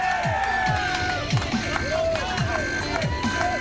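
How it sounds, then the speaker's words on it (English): Crowd noise at an independent backyard wrestling show, a steady roar of cheering and shouting with whoops rising over it, loud and continuous throughout. "everybody here at the Slaughterhouse is cheering him on"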